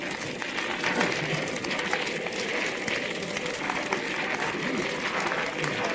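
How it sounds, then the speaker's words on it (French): Steady applause from a theater audience at a live mind-magic stage show, a dense wash of clapping hands that holds at an even level throughout, with a murmur of crowd noise underneath. "Applaudissements."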